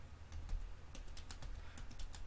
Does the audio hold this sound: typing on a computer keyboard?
yes